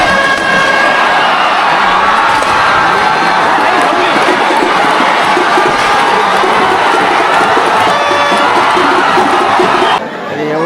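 A large crowd cheering and shouting at the Rayba Devi village yatra, a dense, loud, continuous roar of voices outdoors that drops off abruptly at the end.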